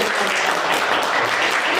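Applause for a new member of a student podcast group, a dense, steady wash of clapping from a small room that runs evenly and alone for about two seconds.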